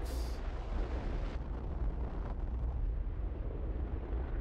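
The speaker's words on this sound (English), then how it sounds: "Yay! Fireworks!" Fireworks exploding in the video game Fallout 4, a loud booming burst at the start that trails into a long, rumbling roar fading over several seconds.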